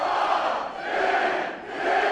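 A wrestling arena crowd cheering for Rob Van Dam at a PCW Ultra event, a loud roaring swell of voices that dips briefly and surges back.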